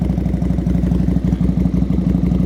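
A modified Yamaha V16 motorcycle with an Indian-style build idles up close, loud and steady, with a low, rapidly pulsing engine rhythm and no voices.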